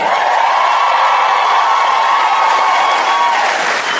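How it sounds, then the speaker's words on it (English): A stand-up comedy audience cheers and applauds in a loud, sustained wash of clapping and whoops that fills the whole moment and tapers only slightly at the end. "thank you for cheering for that part"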